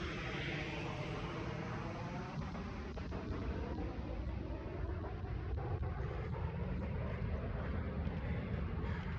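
A fixed-wing airplane passes overhead in a residential neighborhood during a morning walk, its steady broadband roar loud and sustained for the whole stretch, mixed with gusty wind noise on the microphone.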